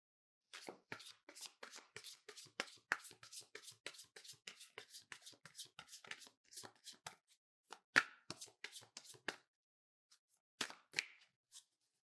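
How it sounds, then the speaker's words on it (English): Tarot cards being shuffled by hand, a dense run of quick papery riffles and snaps close up, pausing briefly near the end before a few final shuffles, with no talking. "Let's get the tarot cards for deeper insight."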